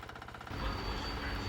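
A Garuda 7 HP back rotary power weeder engine running nearby with a loud, rough, pulsing mechanical drone that steadies into a heavier continuous rumble after a moment, with no talking.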